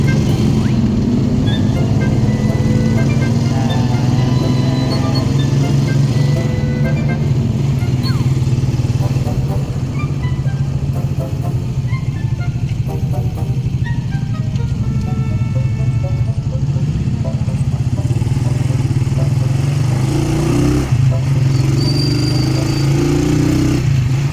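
Road traffic with cars and motorcycles heard from inside a moving vehicle: a constant loud engine and road drone with passing vehicles, while people talk faintly at times.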